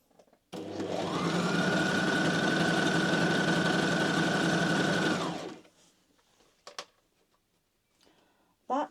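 A sewing machine stitches a vintage halter-neck wiggle dress in one loud, continuous burst of about five seconds, a fast even whir that stops abruptly and is followed by a few faint clicks and handling sounds.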